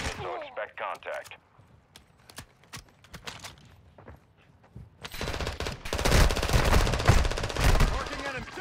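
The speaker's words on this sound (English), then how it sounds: "taking effective fire!" Dense automatic gunfire from a military shooter game roars through the second half, after scattered single shots and a burst of radio-style voice chatter at the start.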